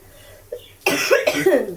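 A person with a cold from being out in the cold morning dew coughs in several harsh, close bursts after a brief quiet start.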